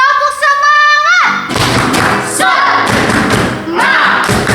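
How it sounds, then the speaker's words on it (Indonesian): Children at a Sunday school service chant the tepuk semangat clapping cheer, a burst of rhythmic thumping claps mixed with loud shouted voices after a sung lead-in, fairly close and energetic. "Tepuk semangat."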